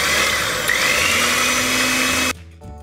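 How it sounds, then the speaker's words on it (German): An electric hand mixer whirs steadily at high speed whipping egg whites stiff for tiramisu, then cuts off abruptly near the end, leaving a quieter room tone. "nehmt ihr euch einen Rührstab und wir tun einmal das Eiweiß steif schlagen"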